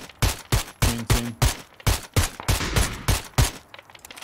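Gunfire in the video game PUBG, a rapid string of about a dozen sharp, loud shots in a fairly even rhythm, some clustered in quick pairs, close and prominent without talk.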